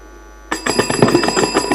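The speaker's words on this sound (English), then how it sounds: "take some time and then press the bell" A quiz bell pressed by a team at a medical quiz sounds as a loud, close, bright ringing that starts abruptly and rattles on for over a second, with no talking.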